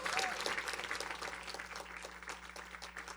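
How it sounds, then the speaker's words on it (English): An audience at a council proclamation ceremony for Education Appreciation Week breaks into sustained clapping that stays dense and strong before gradually thinning, with a voice talking over it briefly. "Let's give her another round of applause."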